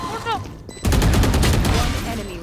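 Gunfire in the video game Valorant: a rapid burst of loud shots starts partway in and continues to the end, with a voice briefly speaking just before the burst.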